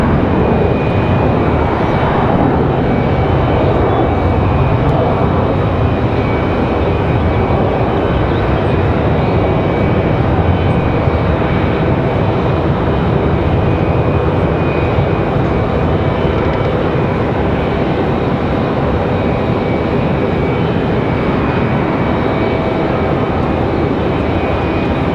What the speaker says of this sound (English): We got a Delta E-175 on the move.